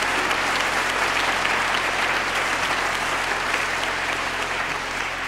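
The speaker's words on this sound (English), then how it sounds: "Y'all give them a hand clap for me." Sustained hand clapping from a concert audience at a fall gospel concert at UC Berkeley, thanking a gospel choir, a dense, loud and even wash of applause with no talk over it.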